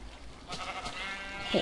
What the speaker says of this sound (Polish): Owca.